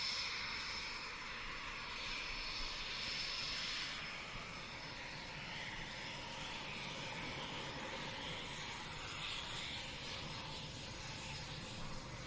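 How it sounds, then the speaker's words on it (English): Steady, fairly distant aircraft engine drone as a plane backtracks the runway toward its parking spot at the RIAT airshow, a continuous broadband roar with a faint whine holding even throughout. "the aircraft got turned around very quickly there and is backtracking the runway"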